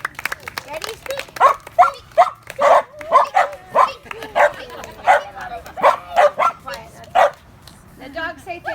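Several dogs at a humane society shelter bark and yip in a rapid, loud chorus of overlapping barks close by, with whimpers mixed in and a voice briefly heard near the end.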